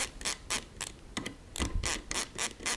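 A hand driver snugs the screws on Midwest Industries QD scope mount rings with a series of close, quiet ratcheting clicks in short repeated strokes, and no one speaks.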